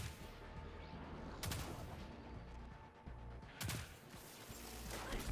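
Gunfire in Destiny 2 comes as quiet, repeated rapid shot bursts and sharp impacts over a rumbling game background, with two louder cracks standing out.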